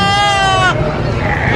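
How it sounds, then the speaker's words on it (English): A goat on a sheep-and-goat farm gives a loud, wavering bleat up close, and it breaks off partway through over a steady outdoor background. "There's another goat."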